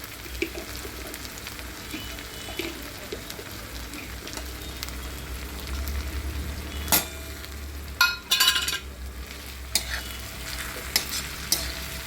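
Green chillies sizzle in a pan with fully roasted tomatoes for an egg chutney, a steady close-up fry with scraping stirs and a few sharper clatters of the spatula partway through.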